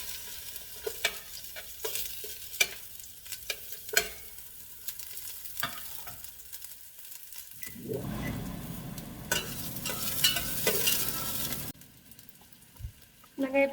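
Chopped onions hit a hot pan for a pork sopas: light spoon taps and knocks come first, then a loud, broad sizzle swells up and holds for several seconds before cutting off abruptly, followed by a few close clinks.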